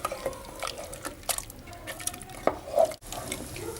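A spoon stirs Rogan Josh curry in a pot after Kashmiri chili is added, giving soft scraping and wet sloshing sounds with a few sharper clinks, fairly close and quiet.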